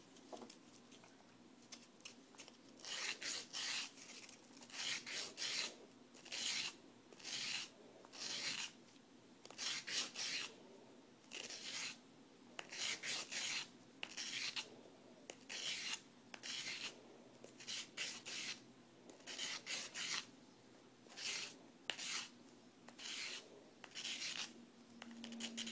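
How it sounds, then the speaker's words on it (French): A resin ball is sanded by hand with coarse abrasive paper wrapped tightly around it, producing repeated rhythmic rasping strokes in bursts with short pauses, close and fairly quiet. "j'ai passé mon premier cabron sur toute la surface de ma boule"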